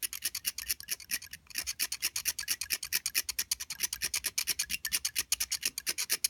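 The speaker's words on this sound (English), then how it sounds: "just very gently and patiently chisel away" Hand chiseling away mold seams, producing a fast, steady run of harsh rasping scrapes, many strokes in even rhythm, close and fairly quiet with no talking.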